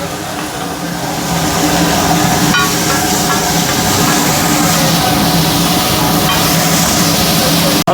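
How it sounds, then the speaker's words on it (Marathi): A loud, steady sizzling hiss of squid frying on a hot griddle at a roadside seafood dhaba in Belpada, constant and close, with a faint metallic clink partway through. "या साईडला माकली तवा फ्राय बनवायचं काम चालू आहे"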